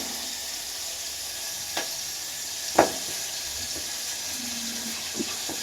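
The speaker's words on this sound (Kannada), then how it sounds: "ಅದರ ಜೊತೆಗೆ ಬಟಾಣಿ ಒಳ್ಳೆ ಫ್ರೈ ಆಗುತ್ತೆ" Peas frying in a pan give a steady, soft sizzling hiss throughout, broken by a few faint clicks of stirring, with no one talking.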